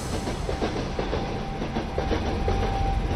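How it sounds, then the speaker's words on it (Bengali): An express train rolls across a bridge at night, a steady close rumble with rhythmic clatter of wheels over rail joints continuing throughout. "রাতের এই এক্সপ্রেস ট্রেনটি তখন ছমছম করে একটি ব্রিজ পার হচ্ছে।"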